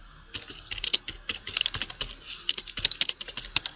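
Fast, close typing on a computer keyboard while writing code for student login page logic, with irregular bursts of crisp key clicks and no talking.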